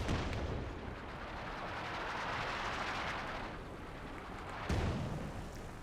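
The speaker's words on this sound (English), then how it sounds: "Support gun opening fire." Support gun artillery fire in Company of Heroes 2 during a 4v4 match on Port of Hamburg, a dense rolling barrage of booming shots and rumbling blasts, loud and continuous, with a sharp fresh report near the end.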